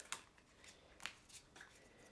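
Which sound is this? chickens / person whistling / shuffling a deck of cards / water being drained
shuffling a deck of cards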